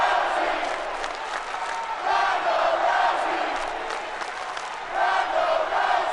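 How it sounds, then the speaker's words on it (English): Wrestling arena crowd in a video game, cheering and roaring in steady surging waves, loud and continuous, with a few louder swells. "They are loud and proud, cheering at the top of their lungs."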